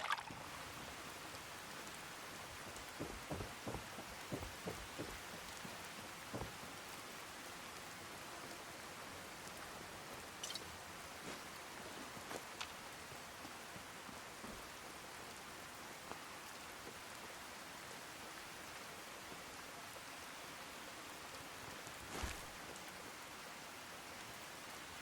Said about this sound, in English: I've only just noticed that it's raining in here.